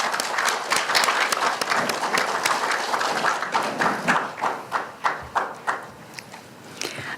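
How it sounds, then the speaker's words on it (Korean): An audience at a press club debate forum applauds to welcome the opposition floor leader, a dense burst of clapping that thins into fewer, distinct individual claps toward the end. "박수로 맞아주시기 바랍니다."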